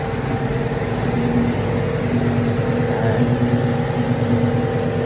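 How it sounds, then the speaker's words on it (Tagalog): A Yamaha motorcycle engine runs at a steady idle, giving a close, continuous mechanical drone with a low hum and no pauses or voices. "Ito yung ating makina."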